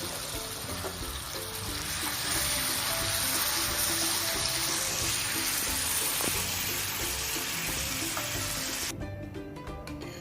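Butterscotch sauce of butter and cream being stirred in a pan over a flame, giving a steady broadband sizzle and bubbling with spoon scrapes, continuous and fairly loud, cutting off abruptly near the end.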